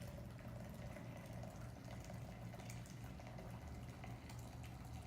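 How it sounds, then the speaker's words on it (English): Hot water is poured into a French press coffee maker, a soft continuous rushing and gurgling stream of liquid that stays steady and faint throughout with no talking. "So we add the water until we get just about to the midway point."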